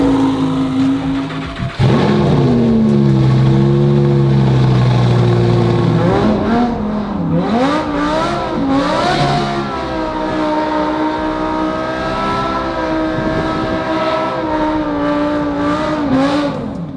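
A Lamborghini, tied down for a standing burnout, revs hard close by. The loud engine climbs and wavers through repeated surges over about seventeen seconds, with a sharp jump in pitch early on.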